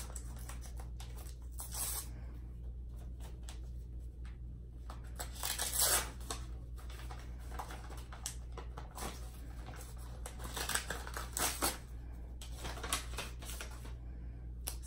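A greeting card is handled and opened, its paper giving soft, faint crinkles and scattered clicks over quiet room tone.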